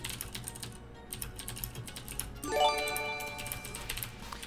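Short bursts of computer keyboard typing, close and moderately loud, with a brief tonal sound rising through the middle over a low steady hum.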